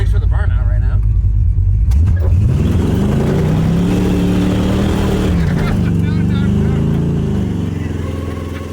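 A Cadillac fitted with fender-exit exhaust revs hard through a burnout, its loud engine roar rising and holding close with rough low rumble, while a voice talks over the noise.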